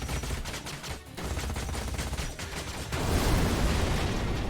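Video game gunfire aimed at a truck, a dense rattle of rapid shots that pauses briefly near the start, then a heavier, louder burst of fire and blasts toward the end.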